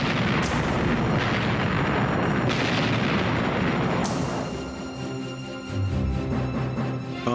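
Cannon and shell fire in a naval battle during the capture of Corsica, heard as dense rumbling booms and crackling bursts, loud and continuous, with several sharp reports before the roar eases and settles into lower rumbles.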